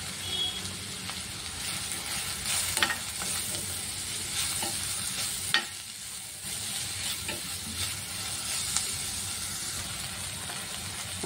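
Onions with turmeric and salt fry in a pan for a wheat-flour evening snack, giving a close, steady sizzle. Occasional spatula knocks and scrapes punctuate it over about eleven seconds.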